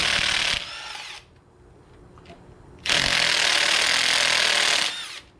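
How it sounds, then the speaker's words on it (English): Power tool, likely an impact driver, loosening engine bolts on a Royal Enfield Scram 411 motorcycle in two loud, close, sustained bursts separated by a quieter pause with faint handling clicks. "we're going to go through and loosen up all these bolts"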